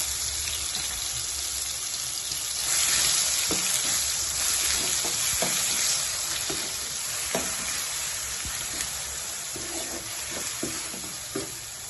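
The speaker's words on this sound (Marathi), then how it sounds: "कांदा असा मस्तपैकी परतवून घ्यायचा आहे" Onion paste with garlic-ginger paste and asafoetida sautés in a pan, a loud continuous sizzle with scattered scraping and tapping from stirring throughout.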